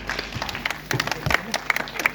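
Audience applause at a ceremony honouring women in Bhilwara, a dense patter of clapping under scattered voices and crowd murmur, moderately loud and steady for a couple of seconds.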